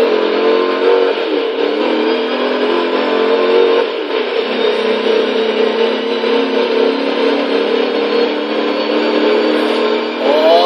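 A 1992 Hoonigan Mazda RX-7 Twerkstallion rotary engine revving in the Forza Horizon 3 racing game, a loud continuous whine holding steady with slight dips between gear changes, heard alone without talk.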